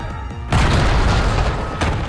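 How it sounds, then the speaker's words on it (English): A grenade explodes in Black Ops 6 with a loud, sudden boom that rolls into a long rumbling tail, and a second thump lands near the end. "horrible grenade"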